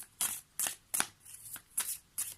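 Oracle cards being shuffled in the hands, five or six quick crisp riffling bursts in an even rhythm, close and clear with no talking.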